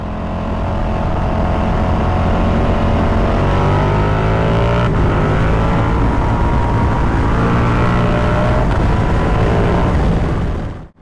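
Ducati motorcycle accelerating along a California road, a loud, close engine climbing through its revs in a long sustained pull with no voices, cutting off at the end.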